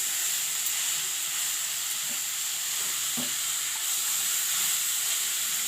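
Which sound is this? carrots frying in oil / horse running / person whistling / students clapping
carrots frying in oil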